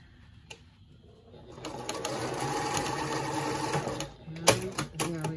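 A sewing machine stitches a lined zippered pouch, starting after a quiet pause and running in a steady, close mechanical rattle for a couple of seconds before stopping with a few clunks.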